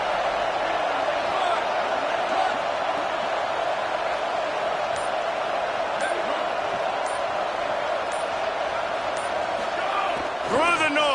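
Crowd noise fills a stadium at an American college football game, a dense continuous roar heard from a distance, steady throughout and swelling briefly near the end.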